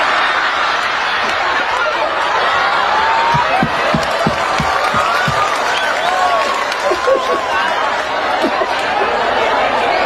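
Audience applause at a lively Sundanese religious talk, a steady wash of clapping and crowd chatter running throughout, with scattered laughter and voices mixed in.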